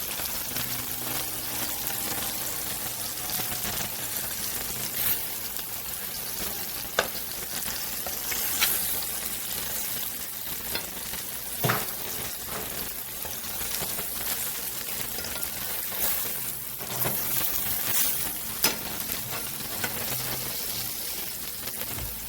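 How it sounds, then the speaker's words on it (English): Chicken and shrimp fry side by side in pans for a scampi dish, holding a long, steady, close sizzle with occasional sharp clinks and taps of utensils, and no one speaking. "And then I added our chicken to the pan. And I've added our shrimp to this pan."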